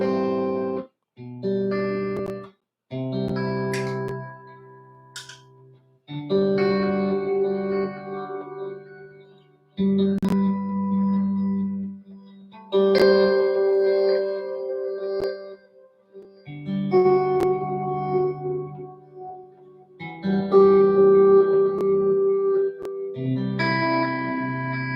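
An electric guitar plays through an amp with effects. Chorus-like, slightly distorted chords and single notes come in short bursts separated by brief pauses, close and moderately loud.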